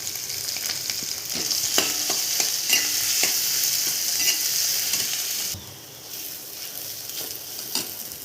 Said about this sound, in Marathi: मिरची फ्राय झाली छान. आता बटाटे टाकू.